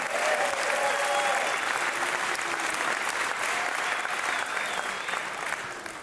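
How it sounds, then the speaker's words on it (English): A crowd applauds pitch competition finalists steadily throughout, a dense wash of clapping that fades slightly at the end. "One more round of applause for all of them."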